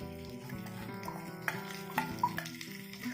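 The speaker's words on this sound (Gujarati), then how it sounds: "હવે લાઇટ બ્રાઉન થાય ત્યાં સુધી હલાવવાના" Stuffed chillies are stirred in a heavy kadai, with soft scraping and a few sharp metallic clinks of the spoon against the pan over a low hum, close and fairly quiet.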